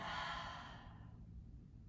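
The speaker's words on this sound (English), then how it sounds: "Another deep inhale. Exhale, release it." A deep exhale during yoga breathing in a bound half-moon flow, one long breathy sigh that fades out softly and sits alone without talk.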